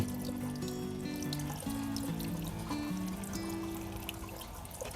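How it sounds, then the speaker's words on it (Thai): Running water from a tap rinses cut pieces of caladium tuber, a steady, close splashing and trickling that continues throughout with no talking. "เราก็ พยายาม ล้างแบบล้างผ่านไปสักแป๊บหนึ่งก่อนนะเพื่อนๆล้างแบบนี้ไปเรื่อยๆ สัก5นาที"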